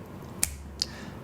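Two sharp, close finger clicks about 0.4 seconds apart cut through a quiet room, used to mark a mistake while recording on camera.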